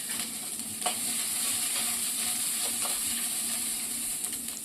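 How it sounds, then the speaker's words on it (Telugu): Peeled garlic cloves and ivy gourd fry in a pan with a steady loud sizzle and hiss, broken by a couple of brief scraping stirs. "ఇప్పుడు వీటి మొత్తాన్ని ఫ్రై చేసుకోవాలండి."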